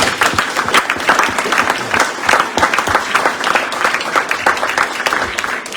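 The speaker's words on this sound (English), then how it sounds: "Let's give a round of applause to these guys." A crowd at a township commissioners meeting applauding a local baseball team, loud, sustained dense clapping from many hands holding steady for several seconds.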